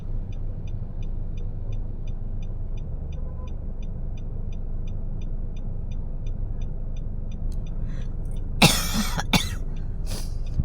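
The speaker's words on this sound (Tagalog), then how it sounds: "Pero inubo ako." A person coughs a few times in close, harsh bursts near the end, after a long stretch of steady traffic rumble on a city street.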